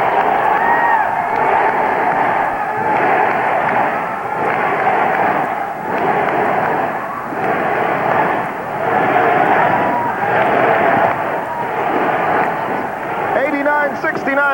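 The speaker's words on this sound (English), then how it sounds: "Listen to this crowd." A packed arena crowd roars loudly and continuously at the 1999 SEA Games basketball final between the Philippines and Thailand, swelling in waves with cheering near its close while commentary runs underneath.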